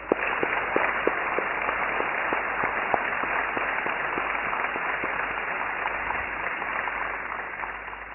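Sustained applause from an audience, a dense wash of clapping with a few sharper individual claps standing out, steady and fairly loud throughout.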